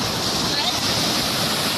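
Sea waves washing onto a quiet beach at Kung Wiman in Chanthaburi, Thailand, a steady broadband roar of surf that stays loud and continuous throughout, with no clear talk.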